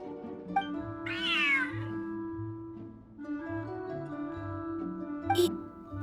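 A cat in the Genshin Impact game gives a clear, rising meow up close, heard over a soft melodic music background, with a faint second high note near the end.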